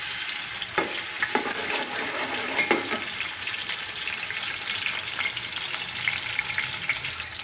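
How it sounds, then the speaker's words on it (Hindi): Onions fry in a pan for Lahori cholay, a dense, even sizzle that holds loud and steady throughout, with a few early stirring clicks and no voices. "अब प्याज ब्राउन करते हैं पहले जी।"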